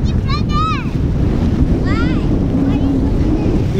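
Heavy wind buffeting the microphone with a constant low roar, with brief high whistling or squealing voices partly heard over it.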